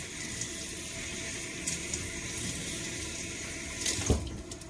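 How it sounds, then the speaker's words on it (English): A kitchen tap runs water to wet gloves, a steady close rush with a short louder splash near the end as hands move under the stream. "I'm going to wet the gloves."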